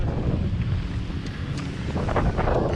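Steady wind buffets the microphone on open water during fall crappie fishing from a boat, a constant broadband rush with slight gusts and no talk.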